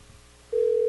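Ringback tone on an outgoing phone call, a steady buzzing tone that starts abruptly halfway through after a quiet line, heard alone.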